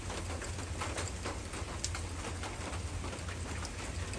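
Steady rain falling outside, an even hiss of drops pattering on surfaces at moderate distance, with a low hum underneath and a faint bird call.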